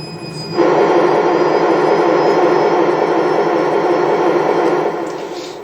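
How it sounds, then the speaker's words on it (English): A Yamaha PSR-EW410 keyboard's synthesized jet roar swells in abruptly, holds as a loud, steady whooshing rush for several seconds, then tapers off. "Jet plane."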